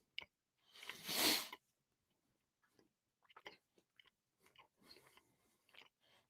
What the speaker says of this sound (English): I hope everybody's really enjoying listening to the sound of my munching.